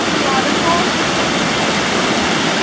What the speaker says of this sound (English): I'm just filming the water.